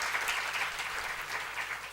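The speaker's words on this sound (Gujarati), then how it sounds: "વિસ્પી ખરાદી સાહેબને જેટલી તાળીઓથી વધાવીએ તેટલા ઓછા છે" A live audience at a Gujarati lecture event on disciplined healthy living applauds a karate champion and gym trainer, a steady wash of clapping, moderately distant and even throughout with no voices on top.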